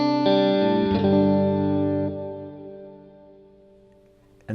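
Fender Marine Layer reverb pedal set with no damping: a sustained, distorted chord rings out with shimmering chorus-like wash, decaying slowly while its brightness lingers, then a fresh strum cuts in at the very end.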